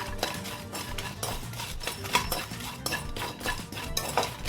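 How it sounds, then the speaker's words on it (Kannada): Garam masala spices being fried in a pan for a Mangalore-style sambar masala powder, with steady scraping and clinking of a utensil against metal and a faint sizzle throughout, close and without talk. "ಈಗ ಗರಂ ಮಸಾಲ ಫ್ರೈ ಮಾಡ್ತೇನೆ"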